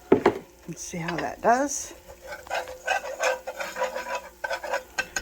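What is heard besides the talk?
flour being stirred into bacon grease in a pan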